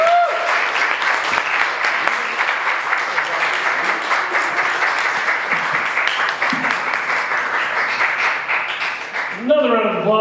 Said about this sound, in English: Another round of applause for Lyle Larue.